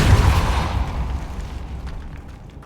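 Repulso spell blast in Hogwarts Legacy: a loud, deep booming burst at the start that rumbles and slowly fades over a few seconds, no talk.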